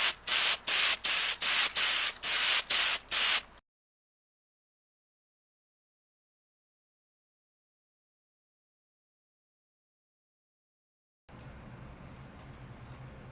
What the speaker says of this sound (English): I decided maybe a couple of coats of clear coat on top of the silver would protect it even more.